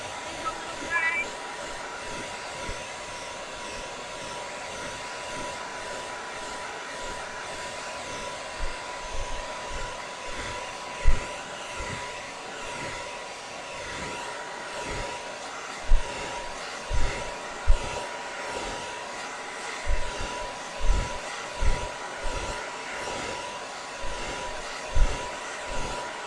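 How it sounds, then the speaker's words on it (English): A hair dryer blows on glaze over egg-shaped Easter decorations with a steady whirring roar throughout, joined by scattered thumps and knocks. "I want to take my dryer and I want to just hit that glaze."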